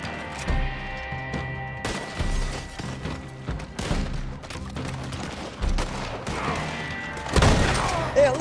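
Bursts of gunfire from a player's weapons in a shooter video game, several clustered volleys with heavy low thumps across the clip, layered over game music and effects.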